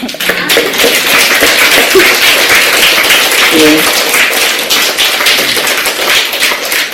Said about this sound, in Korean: 이 말씀을 주신 성령님께 감사의 박수를 드립시다.